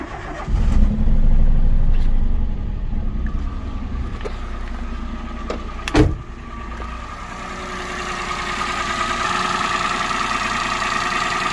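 A car engine with 130,000 km on it, after its original spark plugs were changed, turns over and starts with a brief burst about six seconds in, then settles into a steady close idle with no talk.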